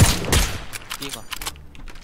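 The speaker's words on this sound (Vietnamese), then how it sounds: "Cái bay đang bắn nhau á, hai team." Gunfire between two teams in the video game PUBG, a couple of sharp bursts of shots near the start followed by scattered lighter pops at a distance, with a voice talking underneath.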